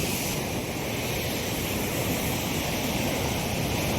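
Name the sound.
sea waves at the beach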